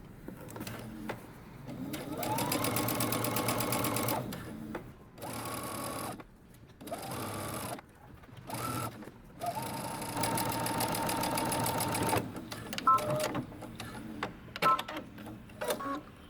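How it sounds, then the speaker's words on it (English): A sewing machine stitches all the way around a dress sleeve made from a Simplicity 8334 pattern, running in several steady whirring bursts broken by short pauses, close and clear with no voices. "I'm going to stitch all the way around my sleeve"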